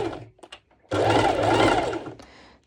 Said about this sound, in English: So I just want to do a few stitches on the mesh part